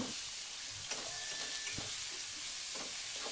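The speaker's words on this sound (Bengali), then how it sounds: "পেঁয়াজ কুচিটা দিয়ে ভালো করে নেড়ে চেড়ে পেঁয়াজটা ভাজা হতে দেবো।" Chopped onion is stirred and fried in oil with browned garlic for a chicken curry: a quiet, continuous sizzle with several soft scraping stir strokes spaced through it, no voices.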